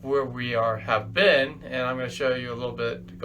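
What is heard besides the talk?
No everyday noise stands out behind the speech.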